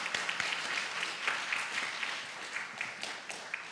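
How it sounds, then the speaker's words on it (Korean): A church congregation at a Sunday morning service in Ulsan claps steadily after a certificate presentation, dense continuous applause from many hands filling the room with sharp individual claps standing out. "박수 한번 부탁드리겠습니다"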